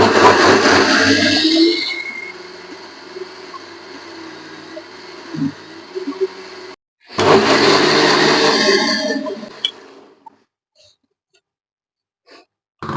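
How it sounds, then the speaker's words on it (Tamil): A mixer grinder whirs loudly as it grinds soaked, sprouted green gram, ragi, urad dal and black chickpeas into dosa batter, running in two bursts separated by a brief pause, then stopping into near silence with faint clinks. "இப்போ எல்லாத்தையும் நல்லா அரைச்சாச்சுங்க நல்லா மையாட்ட அரைச்சாச்சு"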